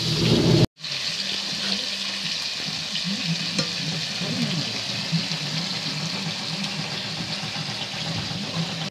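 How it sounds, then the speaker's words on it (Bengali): Fish frying in a pan, a continuous close sizzle and crackle that runs steadily after a brief silent gap near the start. "মাছগুলো ভেজে নিচ্ছি"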